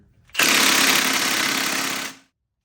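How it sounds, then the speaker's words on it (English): An impact gun removes the crank harmonic balancer bolt on a 2018 Nissan Titan XD 5.6 L in one loud, close burst of rapid hammering that runs about two seconds and then cuts off. "Now I'm going to take off the harmonic balancer."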